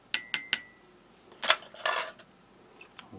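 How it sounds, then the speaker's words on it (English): A metal spoon stirs tea in a cup, giving three sharp, close clinks in a quick even rhythm, then a pause before a couple of brighter, busier clattering scrapes against the cup. "All tea should be stirred, so let's give it justice. Let's stir it."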